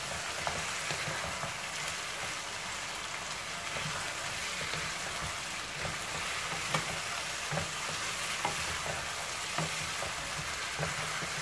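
Chicken pieces and spices stirred in a hot pan, a continuous close sizzle broken by repeated scraping taps of a spoon against the pan, with no talking.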